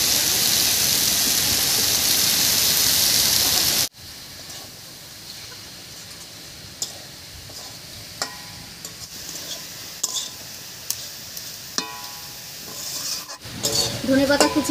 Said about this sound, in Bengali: ধনেপাতা কুচি দিয়ে বেশ কিছুক্ষণ নাড়িয়ে নিয়েছি।